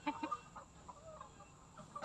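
Chickens on a small egg-producing poultry farm give soft, scattered clucks, a few short calls near the start and end, fairly faint against a quiet background.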